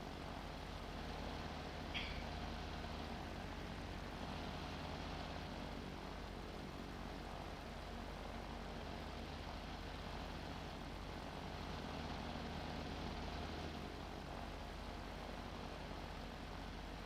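SP30 light aircraft engine idles low in a VR flight simulator at the KERI airfield, giving a steady, continuous propeller drone throughout with one brief click early on and no talk.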